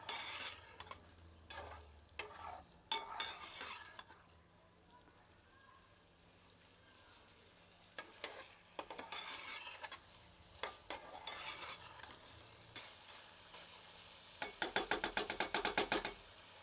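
A ladle stirs chicken in a pan, producing bursts of scraping and clattering strokes between quieter stretches of low sizzling, ending in a rapid run of close metallic scrapes.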